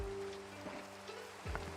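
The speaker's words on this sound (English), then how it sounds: "Of course it's raining." Steady rain in a Minecraft world, a soft continuous hiss of falling drops under low tonal game sounds.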